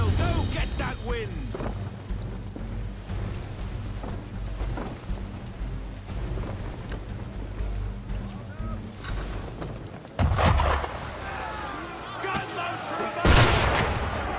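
Ship cannons firing during a storm at sea in Assassin's Creed III, with heavy booms rolling over steady rain and wind, two sharper blasts late on, and voices speaking in between.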